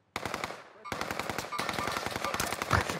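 Sustained machine-gun fire from a shooter video game rattles in dense automatic bursts, loud and continuous after a brief pause, with a faint voice beneath.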